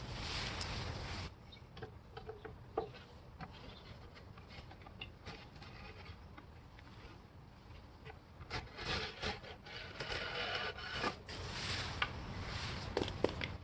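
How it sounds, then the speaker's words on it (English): A hand edge-banding trimmer shaves excess banding off a panel edge while building an outdoor kitchen, giving close, steady scraping and rubbing strokes that turn louder and choppier in the later half, with no talking. "I just start taking the excess edge off, and you can see the edge coming off right here"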